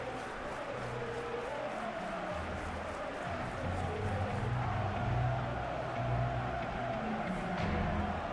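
Capacity stadium crowd at a big football match in a video game, a steady wash of massed voices and cheering that swells slightly midway, with a commentator talking over it.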